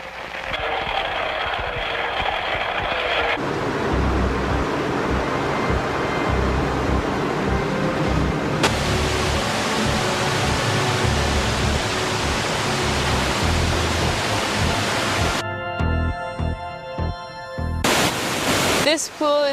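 Water rushes over a waterfall in a continuous, loud, hissing roar that carries on for most of the stretch, then gives way abruptly to other sounds near the end.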